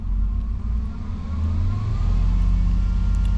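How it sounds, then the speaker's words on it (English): A Jeep engine is revved by hand at the throttle, its low rumble rising steadily in pitch and loudness as the revs climb, heard up close with no talking. "Hit the throttle here with my hand."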